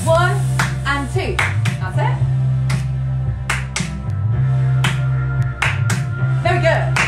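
A choir claps a disco rhythm under a leader's spoken instruction, sharp repeated claps in a steady pattern over a steady musical backing, with the leader's voice running through most of it.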